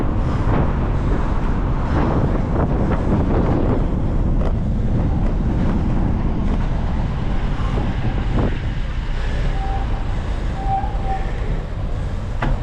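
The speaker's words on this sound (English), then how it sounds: "Really windy right now on Warren" Strong gusts buffet the microphone while cycling along Warren Street in Boston between Grove Hall and Ruggles, a loud continuous roar of wind noise that stays constant throughout.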